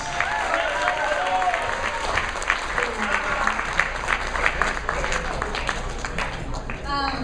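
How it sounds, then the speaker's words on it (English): Wedding guests give a sustained round of applause for the best woman before her toast, steady clapping filling the room with voices and cheers mixed in throughout. "Let's give Joy a big round of applause."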